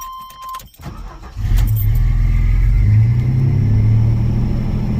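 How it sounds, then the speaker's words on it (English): Keys jingle briefly, then a 1989 Chevy S10 Cameo with a 4.3 TBI V6 and a newly replaced ignition control module cranks, fires up and settles into a loud, steady running rumble close by. "Fired right up."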